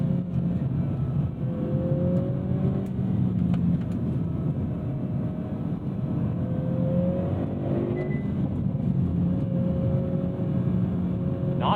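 A 2022 Hyundai Veloster N with a dual-clutch gearbox pulls hard from second gear, its engine note climbing and dropping steadily through upshifts, heard from inside the cabin as a continuous droning rumble with no talking.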